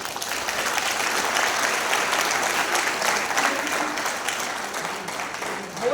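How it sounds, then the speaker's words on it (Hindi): A large indoor audience applauds steadily for several seconds, a dense, sustained wash of clapping that tapers off slightly at the end. "1 मिनट का ताली बजाइए।"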